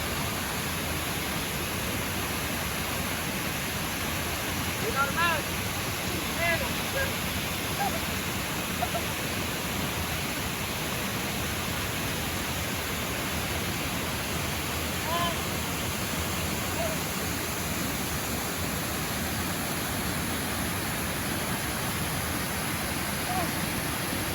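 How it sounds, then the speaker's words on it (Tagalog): Lintungan Falls in Nueva Vizcaya pours in a steady, broadband roar of falling water that stays constant throughout, with faint voices occasionally audible beneath the rush. "Maganda itong falls na ito."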